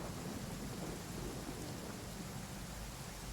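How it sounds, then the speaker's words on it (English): Ambient rain and thunder in a video game, heard as a steady wash of rainfall with a low rumbling undertone, continuous and fairly quiet with no voices. "Now I have the ambient sound of rain"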